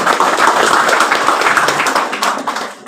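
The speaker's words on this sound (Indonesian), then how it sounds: "Tepuk tangan." Football supporters and Islamic boarding-school students clap together at a campaign gathering for a candidate. The clapping is loud, close and quick, with sharp individual claps standing out through a short burst.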